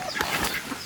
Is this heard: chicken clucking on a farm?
yes